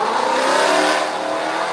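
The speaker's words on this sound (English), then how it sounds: "I don't know how they can rev their engine up to go so hard, so fast like that." A car engine revs hard on a street with a loud, sustained roar that builds and holds through the whole stretch, close by and with no talk over it.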